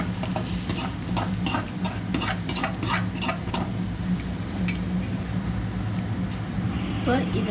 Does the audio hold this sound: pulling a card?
no